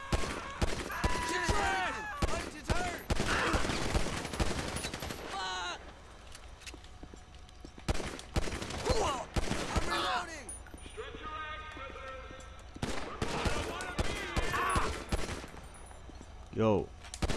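Gunshots in the GTA LSPDFR police mod, playing a corrections officer, crack in sharp bursts amid game noise, with someone talking over much of it.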